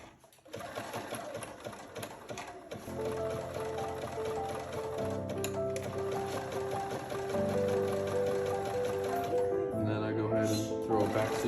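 Sewing machine stitching a failed seam on a shirt: steady whirring, rhythmic needle chatter in several runs of changing speed, close by, with brief pauses and a short stop near the end.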